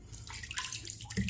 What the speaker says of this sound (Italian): buttiamo via l'acqua